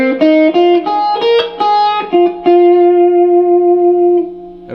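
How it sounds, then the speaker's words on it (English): Distorted blues-rock electric guitar runs through the D-shaped position of the minor pentatonic scale: a quick string of loud, effect-laden notes, then a long sustained tone that rings out alone. "Surrounding those chord shapes, we have another position of the minor pentatonic scale, the D-shaped position."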